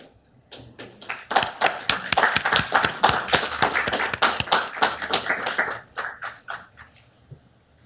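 Round of applause from attendees at a Downey city council meeting, a dense burst of hand clapping that swells quickly, holds steady for several seconds, then thins into scattered claps and fades.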